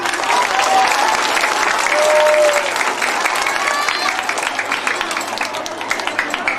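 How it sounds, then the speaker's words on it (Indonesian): Audience applause at a Milad pesantren gathering for Pesantren NU Hidayatul Muttaqin, sustained crowd clapping that runs steadily through the whole stretch, fairly loud, with a voice over the sound system at times. "Tepuk tangan semuanya."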